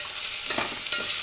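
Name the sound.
green chillies stirred and frying in oil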